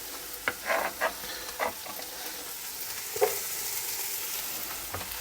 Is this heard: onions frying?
yes